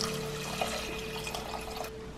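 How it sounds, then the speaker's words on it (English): Water streams steadily into a pot of dal with salt and tomato, a continuous splashing pour up close that stops abruptly near the end. "I've added around 3 times of water"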